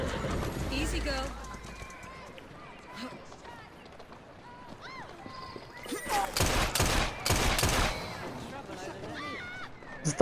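Gunfire in the Assassin's Creed Syndicate video game comes as a cluster of sharp shots midway through, with a person talking over the game sounds.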